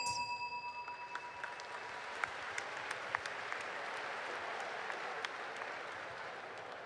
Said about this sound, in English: This thunderous applause indeed is deserved by the team